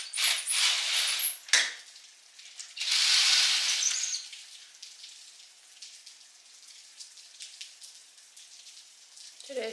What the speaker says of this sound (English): it is still raining this morning